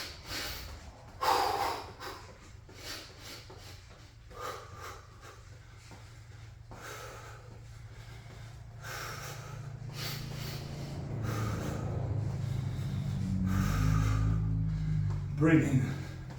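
Heavy, rhythmic breathing during a garage workout, repeated sharp exhales and snorting breaths close to the microphone, with low background hum and a rising rumble toward the end.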